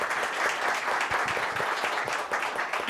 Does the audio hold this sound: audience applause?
yes